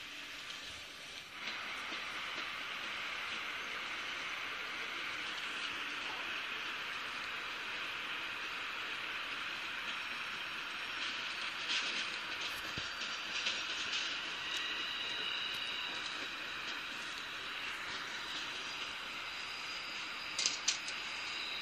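A train rolls along the rails with a steady rumbling roar and hiss, occasional clacks and squeals rising through the continuous noise.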